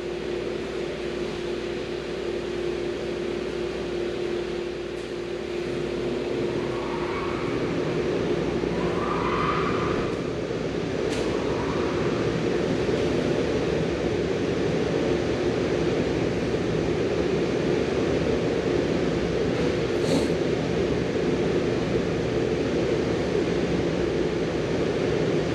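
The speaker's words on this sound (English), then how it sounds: "Here's our blower motor" A Hyundai Santa Fe blower motor runs with a steady, loud, continuous whooshing hum throughout, a broad airy hiss with faint shifting tones and occasional small clicks, no speech.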